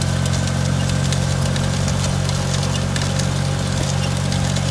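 A small homemade tractor pulls an SZ-1.8 seeder with a roller across virgin ground for pea sowing, its engine a loud, steady close chugging drone with rattling machinery throughout and no talk.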